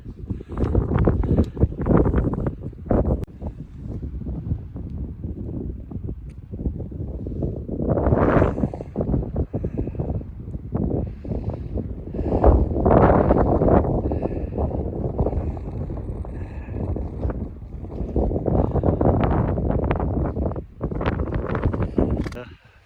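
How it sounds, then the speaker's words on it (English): Strong gusts buffet the microphone on a hard-packed snowy winter trail on Chief Mountain near Idaho Springs, Colorado, surging and easing in loud waves, with a person talking briefly between the gusts. "Ooh, a little windy up here."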